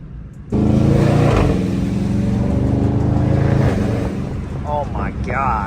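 A Dodge widebody Hellcat engine snarls into a loud, sustained rev that holds steady and then eases down. A voice comes in briefly near the end.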